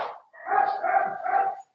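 A dog on a participant's open microphone during an online psychopathology class lets out a short, strained bark that stretches into a whiny, yelping call, close and fairly loud, with no one speaking over it.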